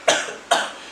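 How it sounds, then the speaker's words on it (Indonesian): A man coughs twice, two sharp, close, loud bursts about half a second apart, each trailing off briefly. "Batuk Pak Haji."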